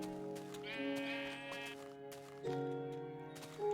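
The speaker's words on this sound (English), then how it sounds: "It's got to punch these sheep." Sheep in the video game Minecraft bleat in a few quick wavering calls, clear and fairly close, with short gaps between them and nothing else over them.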